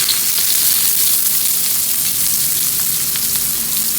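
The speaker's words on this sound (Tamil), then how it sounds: "எண்ணெய் காஞ்சதுமே பட்டை, பூவு, ஏலக்காய், கிராம்பு எல்லாத்தையும் அதில் போட்டுருங்க" Cinnamon, cloves and cardamom hit hot oil in a pan for chicken curry, giving a loud, close, continuous sizzling hiss with fine crackles and no talk.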